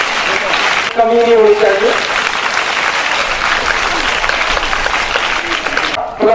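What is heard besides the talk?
audience applause for the student drama team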